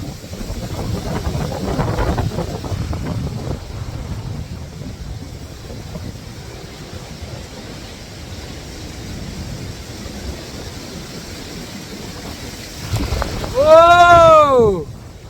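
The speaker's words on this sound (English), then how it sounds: "Here's the big gust." Steady wind rushes and buffets the microphone during a UK storm with 70-90 mph gusts, with a voice talking early on and a louder gust swelling near the end alongside an exclaiming voice.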